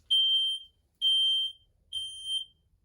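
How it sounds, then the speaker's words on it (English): A dead-battery RV's alarm system sounds three loud, steady electronic beeps, each about half a second long, evenly spaced at one-second intervals, with nothing else heard. "And the alarm system's going off."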